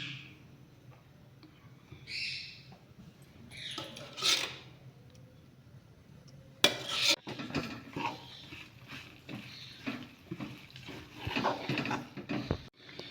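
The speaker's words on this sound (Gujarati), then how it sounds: "ગોળને આપણે આ રીતે ધીમે ધીમે હલાવીને ઓગાળી લઈશું" About 250 g of jaggery and 200 g of ghee melting in a pan while being stirred slowly, heard as quiet, scattered scrapes and clinks of a spoon against metal over a soft background hiss, with no talking.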